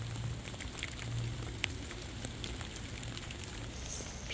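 Steady rain patters down on a vegetable-and-flower garden bed with yellow and red azaleas, a soft continuous wash with a few brief louder drips, and no talking.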